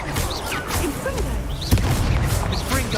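Dense, rumbling explosion bursts and whooshes from a Confringo blast spell fight in Hogwarts Legacy, a continuous loud chaotic mix with a sharp hit near the middle, voices talking over it.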